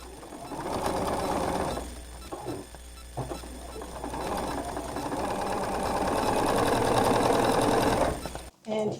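A sewing machine stitching in rapid mechanical bursts, running steadily with a couple of brief pauses, then stopping near the end, with talk underneath.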